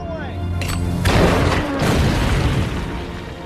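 A tank shell strikes a German Panzer in a World War II battle scene, giving two loud booming impacts followed by a rumbling, crackling roar that lingers under faint voices.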